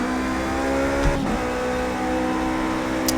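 Toyota prototype race cars at Le Mans in a racing video game blast past, their engines a continuous high-revving whine with a brief swooshing pass around the one-second mark.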